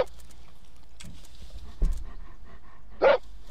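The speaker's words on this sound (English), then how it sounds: "So we got Noah's dog" A dog in a video game gives a few short yips and a whimper amid faint game noises and thumps, with one louder bark toward the end.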